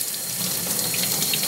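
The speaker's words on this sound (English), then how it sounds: "So next stage is to clean it with running water." Running tap water rinses an etched circuit board under a faucet, a close, steady splashing hiss with no pauses.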